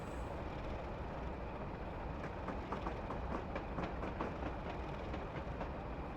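A train rolls past the old London Road station and sidings on the Settle to Carlisle line at about 20 mph, with steady wheel clickety-clack over the rails under a constant rumble.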